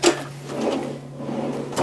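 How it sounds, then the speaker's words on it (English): A soft-close drawer in a converted Sprinter van slides shut, with a muffled knock at the start, a low steady hum beneath, and a gentle thud as it settles, with no voices. "Flip down drawers, pull out drawers,"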